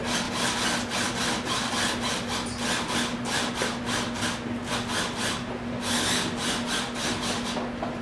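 Ingredients are ground for soup during a live cooking demonstration, making a loud, continuous, rhythmic scraping and grinding with evenly repeating strokes and no speech over it.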